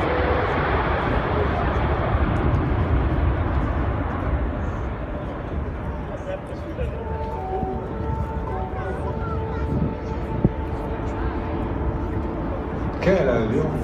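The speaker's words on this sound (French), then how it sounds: "Take off now. The A380." An Airbus A380 takes off at the 2015 Le Bourget air show, its jet engines producing a broad, heavy roar that is loudest at first and gradually thins and fades as it climbs away.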